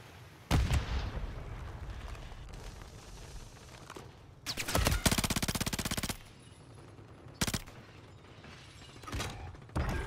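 Enemy gunfire in a tank-combat video game: a few sharp, loud cannon blasts and a long rattling burst of rapid fire around the middle, separated by quieter rumbling stretches, with no talk.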